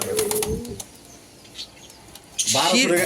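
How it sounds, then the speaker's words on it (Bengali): Caged Sirazi pigeons flutter and shuffle nearby, with a short burst of soft cooing and rustling wings at the start and again toward the end, while a voice speaks briefly over the birds. "এইটা সিরাজি কবুতর"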